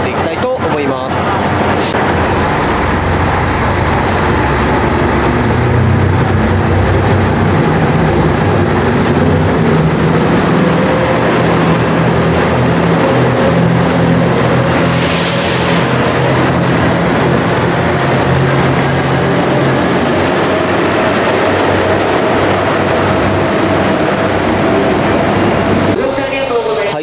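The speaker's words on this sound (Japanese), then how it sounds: "では乗ってきた列車を見送っていきたいと思います。" A JR Shikoku train pulls out of Utazu station, its steady, loud rumble and rolling rail noise filling the platform for nearly half a minute, with people talking over it.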